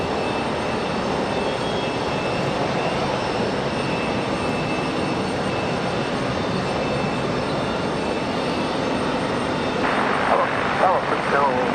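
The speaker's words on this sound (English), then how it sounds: "Republic Airways 4493 coming in from Pittsburgh, Pennsylvania. Going to be our next arrival." A Republic Airways jet arrives at Raleigh-Durham airport, a steady, fairly distant engine whine and rumble building slightly toward the end, with a person speaking over it.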